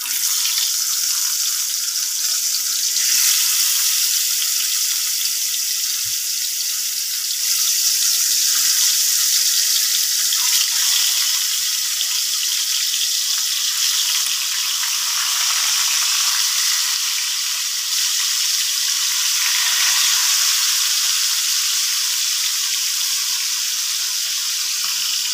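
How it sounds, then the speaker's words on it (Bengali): Mrigal fish sizzles in a hot wok, a loud, continuous frying hiss that holds steady throughout with no talking. "কড়াইটা আমার গরম হয়ে গেছে, এখন আমি মাছটা দিয়ে দেবো।"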